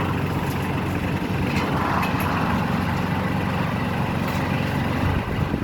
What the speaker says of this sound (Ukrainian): Повний привод, трьохциліндровий двигун Mitsubishi.